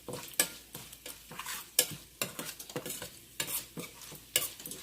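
Fenugreek and mustard powder fry in hot tempering oil for gongura pickle, a soft sizzle broken by irregular scraping strokes of a spoon stirring in the pan, fairly quiet and close.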